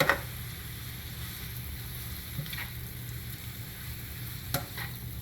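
Zucchini noodles cooking in a pan, a soft steady sizzle with occasional faint scrapes and clicks of stirring, close but quiet, no talking.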